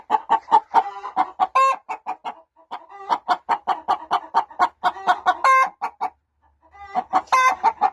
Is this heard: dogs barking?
no